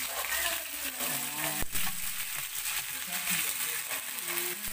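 A salmon head sautés in a hot pan as the first step of sinigang, giving a steady close, dense sizzle throughout with faint voices in the background.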